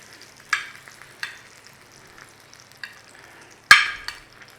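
Sausages frying in a pan, with a quiet sizzle beneath a few sharp, close clatters as they are turned over, spaced unevenly with one loud knock near the end.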